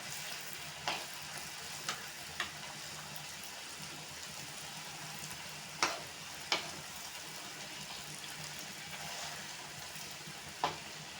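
Potato cheese balls fry in hot oil, giving a steady, close sizzle that runs throughout, with a few sharp pops and crackles standing out from the bubbling.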